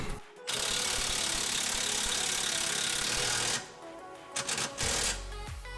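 A ratchet turning a socket to draw a wheel bearing into its housing, a long fast clicking burst up close, then a pause and a few shorter ratcheting bursts, no talk.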